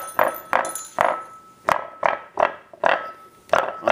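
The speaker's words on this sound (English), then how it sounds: "hear it bottoming out a little bit" Tactile transducer bottoming out on low-frequency signals, a string of about nine hollow thumping knocks in an uneven rhythm, each distinct and fairly loud with quiet gaps between.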